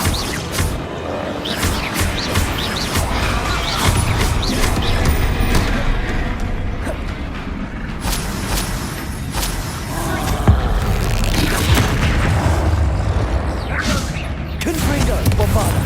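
Explosive spells Confringo and Bombarda in the Hogwarts Legacy video game make repeated booms, crashes and thuds within dense, busy combat noise, loud and close, with a voice speaking over it at times.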